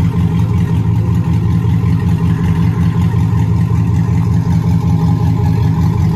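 A 2007 Chevrolet Silverado with a 4.8 V8 and its catalytic converters removed rumbles loudly and steadily close by, a deep, even exhaust drone held throughout with no speech.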